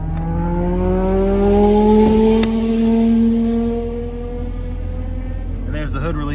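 Traffic from a nearby interstate on-ramp: one vehicle's engine rises steadily in pitch as it accelerates, swells loud, then recedes, with a short burst of another passing vehicle near the end.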